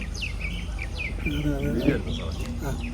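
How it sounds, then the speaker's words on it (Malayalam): Birds chirp and tweet in quick, thin calls around an island resort, heard over a low ambient hum while a person talks quietly. "കിളികളുടെ കളകളാരവ ശബ്ദം കേൾക്കാം."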